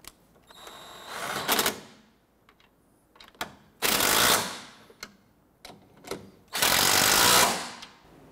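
Bolts are run down tight during a spark plug job, three loud bursts of a power driver's rapid mechanical rattle, each one or two seconds long, separated by quiet pauses.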